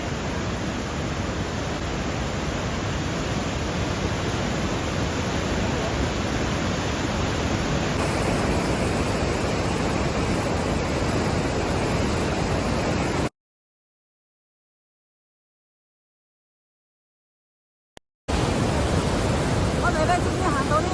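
Roaring river rapids in Tiger Leaping Gorge, Yunnan, give a dense, steady rushing wash of water with no letup, cutting out briefly partway through before returning just as loud.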